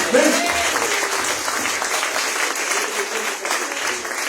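Audience applause fills a gathering at a rehab house after a pastor's prayer, steady dense clapping from start to finish with a voice briefly heard over it near the start.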